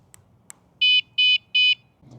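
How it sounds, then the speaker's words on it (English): Three evenly spaced, loud electronic beeps from a Geevon e-bike alarm, each about a fifth of a second, preceded by two faint clicks. "It gave 3 beeps, and there is the bike."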